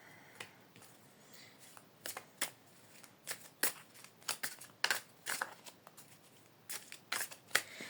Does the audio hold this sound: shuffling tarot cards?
yes